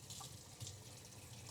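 Water pours from a watering source onto a potted plant set in tree fern, a faint, close trickle and splash with soft irregular surges over a short stretch.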